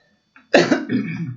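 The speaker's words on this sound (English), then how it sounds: "A little cough there." A single sharp cough rings out close by, preceded by a faint breath, then fades into a short rasping throat sound.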